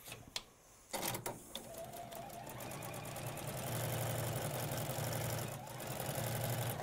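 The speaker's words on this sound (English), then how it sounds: "and sew down." A sewing machine stitches a Moda Cozy Up quilt. After a few soft knocks, it settles into a steady, close mechanical whir that runs on for several seconds.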